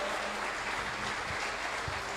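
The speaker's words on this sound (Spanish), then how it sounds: "Dale un fuerte aplauso al Señor" A church congregation claps together in a steady, dense wash of applause that continues evenly through the whole stretch, heard from within the room.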